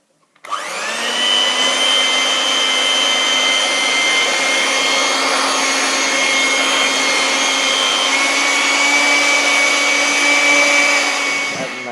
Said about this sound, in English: you mix it up for about a minute